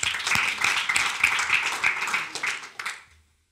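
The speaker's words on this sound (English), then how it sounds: "Just clap if you agree or not." Audience clapping at a tech conference talk, a dense patter of many hands that holds steady and then fades out near the end; no voices over it.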